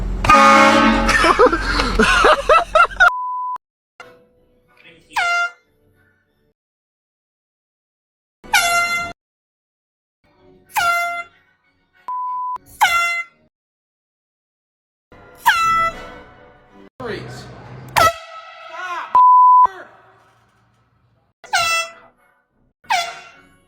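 Loud, sharp air horn blasts repeat at intervals, each a short piercing honk separated by silence, with a burst of noisy commotion at the start.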